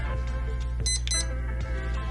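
Two short electronic beeps ring out from an RC truck's speed controller as it powers on, its battery connected and a fully 3D-printed 1:8 scale gearbox held in a vise, over a steady hum with no talking.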